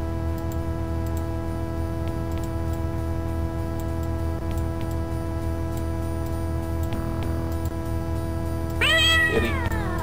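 A steady electronic hum and music-like drone runs throughout a video game, then a short rising cat meow sounds near the end, clear and synthetic.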